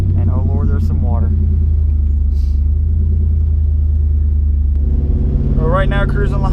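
Steady low engine rumble from a 650 whp Ford SVT Lightning pickup truck cruising on a highway at about 70, heard from inside the cab with someone talking over it at the start and end.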